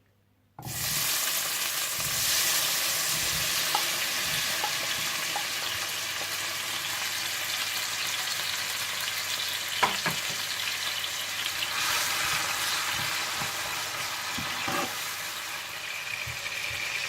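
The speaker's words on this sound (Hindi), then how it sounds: "तेल गरम करने के बाद आप इसमें टमाटर डाल लें।" Steady loud sizzle of tomatoes frying in hot oil, continuous crackling for the whole stretch, with occasional clinks of a utensil.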